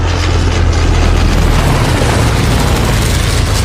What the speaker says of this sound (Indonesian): mereka mendengar suara pesawat yang datang ke arah mereka